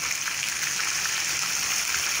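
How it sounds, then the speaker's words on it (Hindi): A little water goes into a pan of browning onion and crushed tomato masala, making a faint, steady hiss and splash that runs evenly for a couple of seconds. "थोड़ा सा पानी ऐड करेंगे"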